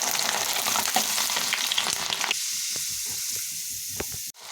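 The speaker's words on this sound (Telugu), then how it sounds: "ఇలా ఫ్రై చేసుకోవాలి." Peanuts and chana dal frying in hot oil in a kadai, dropped in a strainer, give a loud, steady sizzle with light scraping clicks; the hiss thins partway through and stops abruptly near the end.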